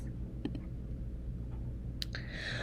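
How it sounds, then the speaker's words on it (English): Computer mouse clicks in a quiet room: a few faint, sharp clicks spaced apart over a low background hum, followed by a brief brighter sound at the end. "Click the checkbox outside of the student's name and then click Assign Accommodations."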